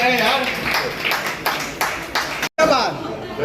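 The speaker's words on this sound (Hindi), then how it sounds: "वो ताली बजती रहे यार" Audience at a poetry and shayari evening honouring martyrs breaking into applause, bursts of clapping with chatter and laughter mixed in, a brief cut midway before clapping resumes.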